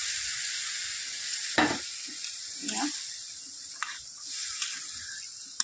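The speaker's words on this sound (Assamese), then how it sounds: "এতিয়া এনেকৈ লাৰি দি আছোঁ আৰু ভালদৰে সিজিছে বস্তুখিনি।" Broiler chicken with cumin is stirred in a hot pan: a steady, bright, close sizzle runs throughout, broken by a few scraping stir strokes.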